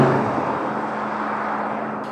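Aston Martin DB12 grand tourer on the move, with a steady low engine and road hum close to the microphone, slowly easing in level over a couple of seconds.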